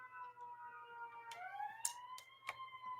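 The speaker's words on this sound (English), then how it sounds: "we hear sirens in the background passing by my neighborhood" Emergency vehicle sirens pass through a residential neighborhood, their rising and falling wail heard at a moderate distance, sweeping upward and sustained over a quiet background with a few sharp clicks.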